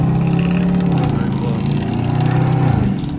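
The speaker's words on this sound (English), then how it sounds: "That truck is obnoxiously loud." A loud truck engine drones through traffic in the rain, a steady low rumble that rises and falls slightly and holds strongly throughout, with no pause.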